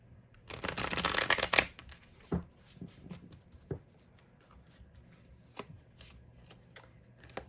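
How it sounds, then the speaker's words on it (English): Rider-Waite-Smith tarot cards being shuffled, a dense papery riffle building for about a second and a half, followed by scattered soft taps and card slaps at close range in a quiet room. "I'm going to go ahead and pick some regular Rider-Waite-Smith Tarot to further clarify this"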